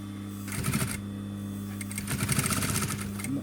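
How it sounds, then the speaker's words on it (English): A sewing machine stitches a backpack repair in two short bursts of rapid, even whirring stitches, close by over a steady low electrical hum. "What I'm doing is I'm trying to keep to that line, and I'm just sewing this down."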